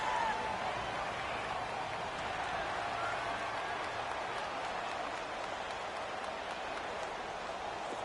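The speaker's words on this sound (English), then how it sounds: "The crowd getting into it as we come up on a big third down." Steady roar of a stadium crowd in a PS4 American football video game, a dense, even wash of cheering with no break, fairly quiet and unbroken by talk.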